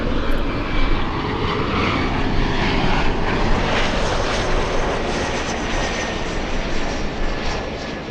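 A Southwest Boeing 737 airliner bound for Honolulu roars at Los Angeles airport. The jet noise is loud, broad and steady, holding a sustained rumble throughout without pause.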